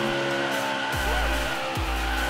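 Burnouts in a sim racing video game: a steady, loud engine drone with rising tire squeals that sweep up twice, close and continuous with no gaps.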